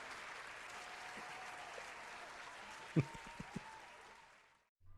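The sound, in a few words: applause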